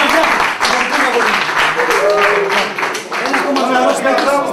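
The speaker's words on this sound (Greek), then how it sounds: "Ένα διπλό χειροκρότημα για τον Κυριάκο μας" A room full of people applauds a team member named Kyriakos at a football club celebration with the championship cup, loud and steady, with voices mixed into the clapping.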